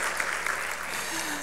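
A room of delegates claps steadily to open the first day's session of the 46th RCT meeting of ILO Cinterfor, a dense, even patter of fairly soft applause with a faint low hum underneath.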